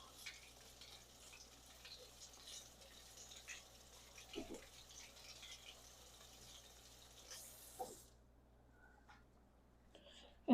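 A jalapeno pepper rinsed under a running kitchen tap, soft continuous water flow with a few brief splashes and clunks, faint and close, ending in a louder knock.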